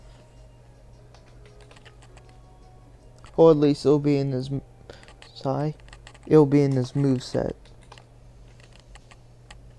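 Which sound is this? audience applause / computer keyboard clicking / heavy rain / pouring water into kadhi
computer keyboard clicking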